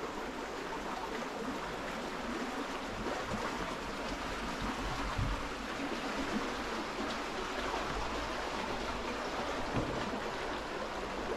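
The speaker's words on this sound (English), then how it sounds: "we're going to go check out this flowing creek" Flowing creek water near Gregory Downs, Queensland, rushes in a steady, close, broadband wash that continues unbroken for over ten seconds without voices.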